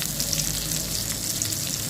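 Matar aloo tikki, pea and potato patties, frying in oil in a pan, a steady close sizzle that holds evenly throughout with no talking.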